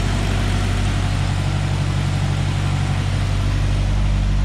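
A Nissan D21 mini truck engine fitted with a Weber carburetor runs at a steady idle, a loud, even low-pitched drone close by with no talking over it.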